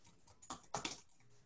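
Someone types on a computer keyboard at a short distance, with a few soft scattered taps followed by two quick bursts of louder clicking, then fading to quiet room noise.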